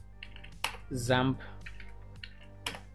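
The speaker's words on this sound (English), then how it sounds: "Let me clear this screen by typing CLS." Typing a command on a computer keyboard, a few quick clicks of keys scattered under a man's speech.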